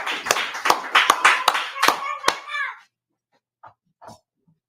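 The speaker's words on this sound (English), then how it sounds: "Brother, a round of applause." A congregation at a closing gathering bursts into a short round of applause with sharp, irregular claps for about three seconds, then falls quiet apart from a couple of faint stray sounds.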